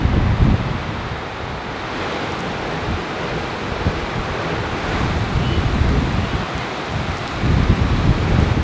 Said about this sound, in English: I can't even get to my car in this rain